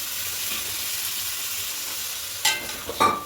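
Chickpeas in gravy being stirred and sautéed in a pan for paneer chana masala, a steady soft sizzle with a few louder scraping stirs near the end.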